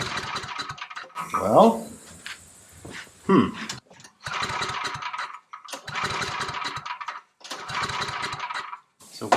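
A small portable generator engine is cranked with several pull-start attempts, bursts of sputtering engine noise separated by short pauses, with someone speaking briefly between tries.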